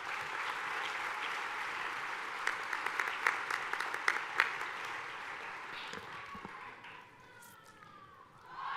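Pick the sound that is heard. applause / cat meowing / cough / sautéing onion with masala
applause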